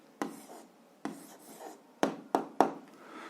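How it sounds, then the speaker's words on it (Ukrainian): A pen writing out an answer on paper, heard as a few close, sharp strokes and taps separated by short pauses, quiet and with no talk. "Записуємо відповідь, пишемо відповідь"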